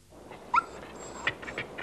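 Small dog whimpering in a film scene from the thriller Atlantic City: a few short, high, soft whines and yips, close and fairly faint, with no talking.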